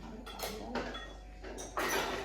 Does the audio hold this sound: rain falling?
no